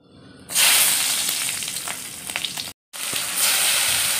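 Nigella seeds and green chillies crackle and sizzle loudly in hot oil for a tempering, a steady close frying hiss with brief pops, cut off for a moment before resuming.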